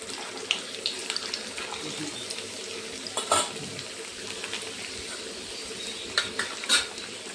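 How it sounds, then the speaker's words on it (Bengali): Potato slices sizzling in oil in a pan over a gas flame for homemade chips, a steady faint hiss and crackle with scattered sharper pops, and no one talking over it. "তারপরে আমি আলু দেব আস্তে আস্তে"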